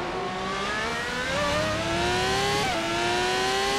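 A Ferrari 412 T2 V12 Formula 1 engine from the mid-1990s, driven in rFactor 2, screams steadily upward in pitch with a paddle-shift gear change partway through, then climbs again, loud and close with no talk.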